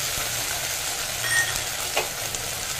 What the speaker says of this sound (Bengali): জিরেটা দেওয়ার পর আমি টমেটো পিউরিটা দিয়ে দিচ্ছি, তার সাথে সাথে আদা বাটাটাও দিয়ে দিচ্ছি।